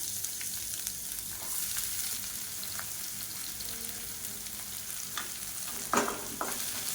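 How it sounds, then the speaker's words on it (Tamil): A handful of onions sautés in a pan of hot oil with curry leaves, giving a steady close frying hiss broken by occasional scrapes and clinks of stirring. "வெங்காயம் நல்லா வதங்கட்டும்"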